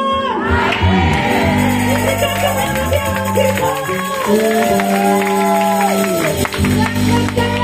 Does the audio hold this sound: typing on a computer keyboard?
no